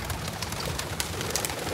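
Pigeons cooing softly in repeated low, throaty bursts outdoors, with no one talking.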